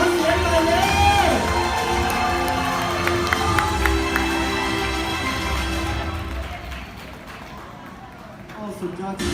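A crowd at a company promotion ceremony claps and cheers with whoops, loud and dense at first, then thinning out toward the end, mixed with a voice on a loudspeaker and background chatter.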